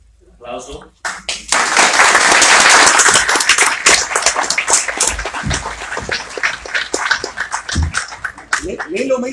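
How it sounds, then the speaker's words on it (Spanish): Audience applause at a film symposium rises after a brief voice and holds as dense, loud clapping, then thins into scattered claps as a speaker begins talking again near the end. "¿Hay alguien más? Aplauso."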